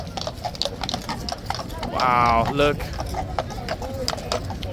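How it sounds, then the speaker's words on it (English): Police horses' hooves clip-clop on a city street in a steady series of sharp knocks, mid-distance, while people talk over them nearby. "And yet more police horses."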